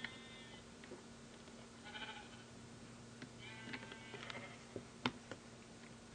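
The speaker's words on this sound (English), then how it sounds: "And look, a load of sheep." Sheep bleat from a herd in the Minecraft video game, several short bleats rising at scattered moments over a steady low game hum and faint ticks, with one sharper click near the end and no talking.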